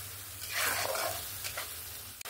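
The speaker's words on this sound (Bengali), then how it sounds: "বেটে রাখা মশলাটা দিয়ে ভালো করে কষিয়ে নেব যতক্ষণ না মশলা থেকে কাঁচা গন্ধটা চলে যায় আর তেল ছাড়তে শুরু করে।" Spice paste sautéing in oil in a pan for a Bengali katla fish curry with potato and pointed gourd: a soft, steady sizzle with stirring scrapes, swelling briefly then easing, close and fairly quiet with no talk.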